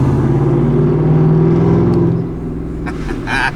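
Ford F150 fitted with a Borla ATAK exhaust, rumbling deeply and loudly while driving, with the drone easing off toward the end.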